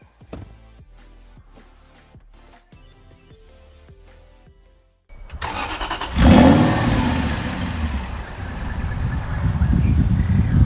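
Soft background music, then an Aston Martin Vantage V8 4.3 starts and revs hard, settling into a loud, throaty sports-car drive that builds again toward the end.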